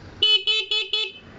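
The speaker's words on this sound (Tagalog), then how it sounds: "Stock horn." Stock horn on a Barako 175 motorcycle, honked four times in quick, evenly spaced short blasts, loud and close with no talking.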